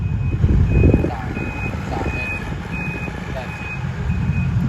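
A dump truck backs up while its reversing alarm sounds a repeated high beep at even intervals. A low engine rumble runs underneath, and someone talks over it.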